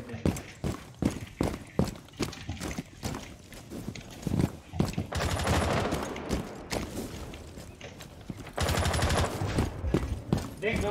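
Gunfire in the mobile shooter Free Fire: a fast series of sharp, evenly spaced shots in the first half, then denser sustained bursts, loud and close, with a player talking over parts of it.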